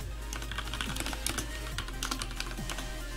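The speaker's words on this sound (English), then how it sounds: "Did I type it wrong?" Quick typing of a numeric code on a computer keyboard, a brisk run of light clicking keystrokes over a steady low hum, fairly close and with no one talking.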